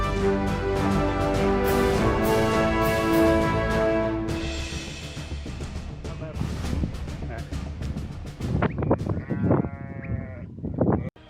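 A large flock of sheep bleats continuously on a mountain path near Sette Croci, many overlapping calls near and far, with a loud droning tone early on and sheepdogs herding behind.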